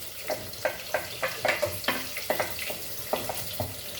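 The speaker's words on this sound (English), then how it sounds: "as the butter gets melt, we will add our garlic, chilies," Garlic and chilies fry in melted butter for a Goan butter garlic crab dish, crackling in a close sizzle with rhythmic stirring scrapes about every half second, with no talking.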